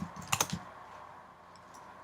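A short burst of typing on a computer keyboard, a quick cluster of several key clicks at the start, then a pause and one final key press, close and fairly quiet, no talk.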